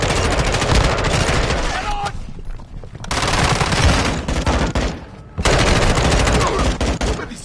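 Heavy gunfire in Call of Duty Warzone 2, loud sustained automatic bursts broken by two short pauses, close and dense, with voices talking beneath the shooting.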